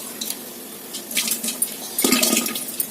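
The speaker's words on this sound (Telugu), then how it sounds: "ఇప్పుడు సగ్గుబియ్యం వేసేసుకుందామండి." Soaked fine sago pearls tumble into a pot of cooking water, giving a short burst of splashing and clinking near the end after a few quieter clatters, with no voices.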